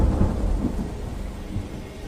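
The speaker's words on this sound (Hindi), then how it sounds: "बाहर अंधेरा था और बारिश के साथ हवाएं चल रही थीं।" Steady rain at night with a low, rumbling wind-like roar, continuous and fairly loud throughout, no voices.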